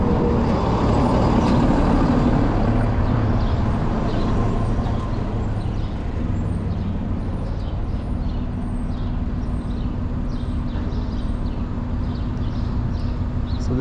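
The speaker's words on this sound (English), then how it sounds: "Can we pass this truck?" A truck rumbles loudly in dense street traffic in Steinway, Queens, New York, with a steady engine roar close by and faint hisses overhead throughout.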